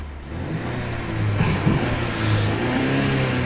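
A Mercedes C300 AMG Line engine in Sport Plus mode hums and swells as it revs moderately, a smooth, steady mid-pitched drone heard from close by.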